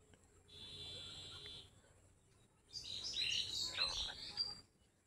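Birds calling in a quiet village, a faint steady tone early on, then a burst of bright chirps and trills at moderate distance over low background hum.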